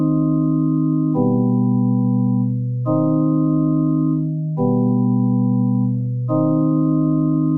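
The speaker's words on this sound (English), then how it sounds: "add a pad from the same plugin called Geni" A sustained synth pad from the Geni plugin's dog pad preset, for a beat, alternates between two warm held chords four times, steady and loud with no talk.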